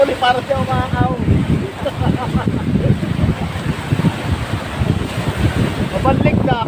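Large ocean waves surging and washing during a fishing trip at sea, a steady roaring wash with wind buffeting the microphone and people talking over it throughout.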